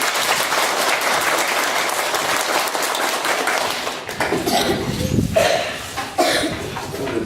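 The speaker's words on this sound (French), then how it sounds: "On peut l'applaudir, hein?" An audience at a small local show applauds, dense sustained clapping that grows looser and more scattered toward the end, with a few voices in the background.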